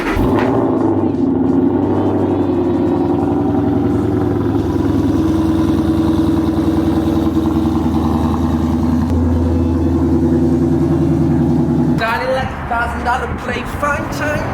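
Car engine turning over and settling into a loud, steady running note close by, with a rough mid-pitched throb sustained for several seconds before it drops away, while people talk in the background.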